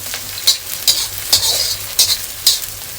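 Chopped onion and tomato frying in a pan while a spoon stirs them, a loud continuous sizzle broken by regular scraping strokes about every half second, close up with no voices.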